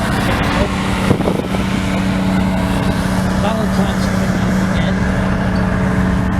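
A tracked tank at Tankfest 2019 drives by with a steady, loud engine drone and a low rumble that holds throughout, with a voice speaking over it.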